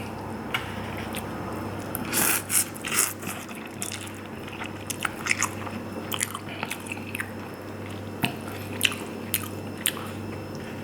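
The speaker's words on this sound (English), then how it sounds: "Let's try the noodles." Close, quiet chewing and soft wet slurps of instant ramen noodles in broth, irregular small bites and squishes over a faint steady hum.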